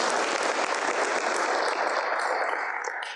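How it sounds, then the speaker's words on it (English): A crowd applauds, dense clapping that holds steady and then begins to fade near the end. "Round of applause for sharing a little bit on that."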